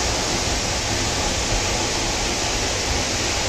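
Water pours down at the Varavi Siddeshwara cave temple waterfall, a dense, unbroken roar that stays loud and even throughout with no voices over it.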